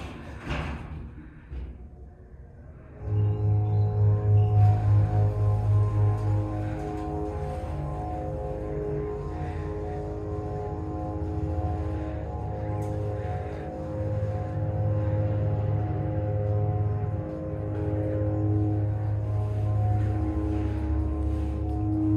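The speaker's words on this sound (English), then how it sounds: "Alright, let's listen to this motor." An unknown hydraulic elevator motor in a science building starts with a thump and then runs with a loud, steady low hum and tonal whine that continues throughout, with no talking.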